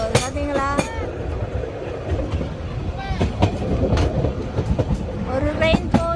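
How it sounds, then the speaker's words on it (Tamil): Train passing on a railway line in Mallorca, with rumbling wheels, rhythmic clacking and brief high squeals, fairly close and loud, while people talk over it. "அங்காலேயும் ட்ரெயின் போகுது பார்த்தீங்களா?"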